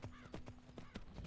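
Horse hooves clip-clop steadily in Skyblivion, the fan remake of the game Oblivion, with a quick rhythmic run of hoof strikes over a constant tonal hum and a faint whinny-like texture.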